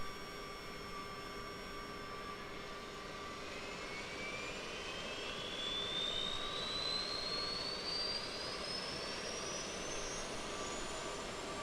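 Aerosoft CRJ 700 in Microsoft Flight Simulator, APU running and a jet engine starting: a steady turbine hiss and hum with a rising whine that climbs in pitch as the engine spools up, moderately loud and alone.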